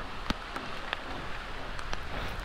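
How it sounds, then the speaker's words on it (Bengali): Light rain falling during a ride past a city intersection, a soft continuous patter with a few sharper drops striking nearby surfaces, fairly quiet and without talk. "তারপরের থেকে বৃষ্টি।"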